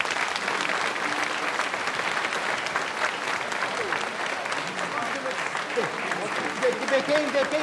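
Steady, dense applause from a live audience at a 1969 German singer's stage performance, continuous clapping at moderate volume throughout with a faint voice near the end.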